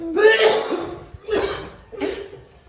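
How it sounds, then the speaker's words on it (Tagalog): Three harsh, breathy coughs in a row, close and fairly loud, with short gaps between them. "Ubo ba yun? Ubo?"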